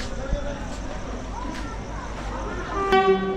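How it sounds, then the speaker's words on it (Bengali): A brief, loud train whistle sounds near the end over a busy railway platform background of crowd noise and rumble. "এই তো ট্রেনের হুইসেল চলে এসছে"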